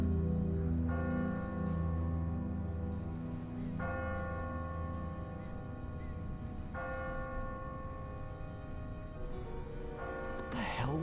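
A church bell tolls from a bell tower in The Walking Dead video game, slow steady strikes with long ringing decay repeating about every three seconds, loud and sustained over a low rumbling background.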